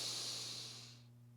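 A person draws in a deep breath during a movement exercise, one long hissing inhale, close and quiet, fading out near the end over a faint low hum.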